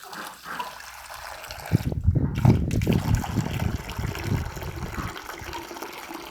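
Water splashes and gushes as it is poured into a dog's water bowl outdoors, starting softly, swelling into a steady louder pour, then trickling off near the end.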